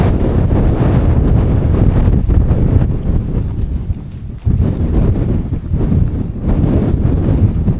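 Strong wind gusting outdoors at a sheltered camp spot, loud rumbling buffeting against the microphone that dips briefly midway and then resumes.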